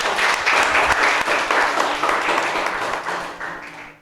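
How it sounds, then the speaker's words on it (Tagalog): A church congregation claps together in strong, dense applause that fades toward the end, with faint murmuring under the clapping. "Palakpakan natin si Lord. Yung palakpak naman sa Panginoon."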